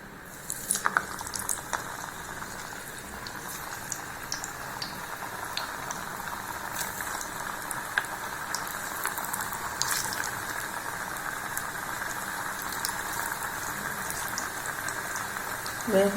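Pottukadalai vadas fry in hot oil in a kadai with a steady, dense crackling sizzle and fine popping bubbles that run the whole time at an even level, close by and with no one speaking.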